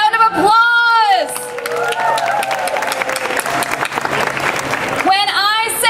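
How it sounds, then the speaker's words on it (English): Loud, sustained audience applause and cheering at a human rights rally in Hartford, Connecticut, with whoops rising over the clapping and a voice speaking at the start and end. "give yourselves a round of applause"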